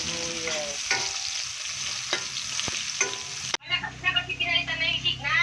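Garlic, onion and ginger sizzle steadily in hot cooking oil while being stirred, with scraping stirs, then a fresh louder burst of frying crackle as more goes into the pan; light speech is heard over the cooking.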